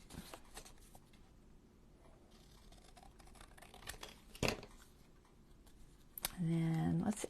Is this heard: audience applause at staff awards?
no